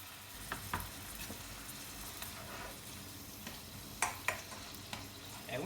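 Puttanesca sauce with anchovies, tomato and capers is stirred in a pan, giving faint scrapes and a few sharp ticks over a steady low sizzle. A louder pair of strokes comes near the end, and no one speaks.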